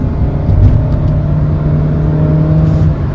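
A Honda Jazz with a CVT gearbox is floored at full throttle. It makes a loud, sustained engine drone with a steady, unchanging pitch, with no gear shifts and no voices.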